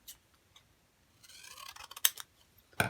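Scissors cutting a piece of paper during a sketch project, a few faint close snips and crisp crinkles after a quiet start, with no talking.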